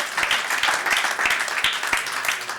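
Audience at a philanthropy forum in Spain applauds a panel speaker, a dense, even round of clapping from a sizeable crowd with no voices over it.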